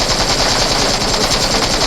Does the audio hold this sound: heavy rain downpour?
no